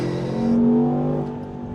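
A 2025 Land Rover Defender OCTA with 661 horsepower launching from a full stop, the engine rising in a loud, close, strained roar that peaks then eases slightly as it pulls away.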